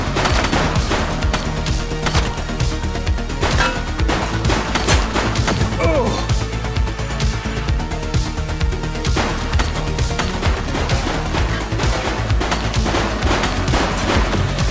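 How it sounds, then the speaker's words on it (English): Sustained, loud gunfire from a police shootout in The Precinct video game, with dense bursts of rapid shots and overlapping volleys filling the whole stretch without a break. "Shots fired!"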